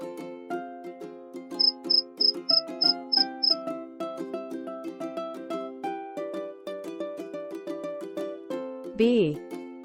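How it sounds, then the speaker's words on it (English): Cricket chirping as a short run of about seven quick, evenly spaced high chirps over a bright children's melody, in a kids' insect names and sounds lesson, followed by a spoken voice. "Cricket."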